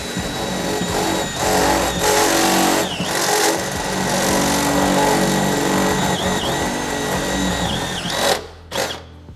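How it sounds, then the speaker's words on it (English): A power drill bores holes into the metal floor of a VW T5/T6 van, a loud continuous whirring motor with pitch dips as the bit bites, then stopping and restarting near the end. "I'm just going to go ahead and drill out all of these 16 holes to the size they need to be"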